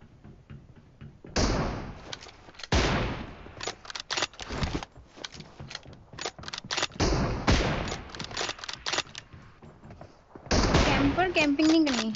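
Sharp bursts of gunfire from a shooter video game using an M24 sniper rifle, loud and repeated across the clip with gaps between volleys, under excited talk from players.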